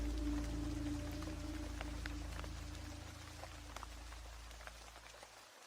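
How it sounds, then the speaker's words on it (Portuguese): Heavy rain falls in a dense, steady hiss on a dark, stormy night, with a low rumbling bed beneath that fades out near the end and a few faint drops or taps. No one speaks. "A chuva caía com força e eu mal conseguia enxergar a estrada."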